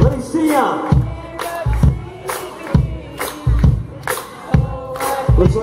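Crowd cheering and shouting at a Laurel Fire Company parade, the loud bursts of voices recurring in rhythmic waves alongside sharp percussive hits, close and lively.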